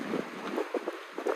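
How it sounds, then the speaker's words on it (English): Gusty wind buffets the microphone on a hike outside Barcelona, a continuous rough rumble with repeated low thumping gusts and no talking. "It's windy."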